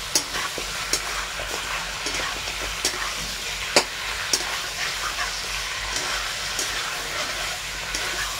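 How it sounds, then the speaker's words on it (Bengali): Chicken pieces fry in a kadai for a dhaba-style chicken kosa, giving a loud, continuous sizzle punctuated by frequent close spatula scrapes and knocks as they are stirred. "এবার ভালো করে এটাকে নেড়ে নিচ্ছি।"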